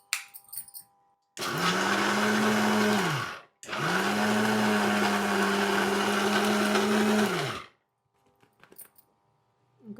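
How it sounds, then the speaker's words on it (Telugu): A mixer grinder grinds vada batter of soaked lentils with salt and green chillies: two loud, steady motor runs of about two and four seconds, split by a brief pause, then the machine winds down to quiet. "ఇప్పుడు మిక్సీ పెట్టేద్దాం."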